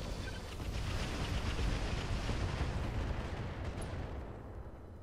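Weapons fire in the Roguetech mod of the BattleTech video game: a heavy, continuous roar of blasts and rumbling impacts that swells and then slowly fades.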